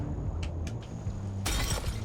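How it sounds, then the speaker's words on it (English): Glass cargo shattering in the flight-building game Aviassembly: a sudden loud crash of breaking glass bursts in near the end, following a few faint ticks over a low engine drone. "How slow do you have to go to not break glass?"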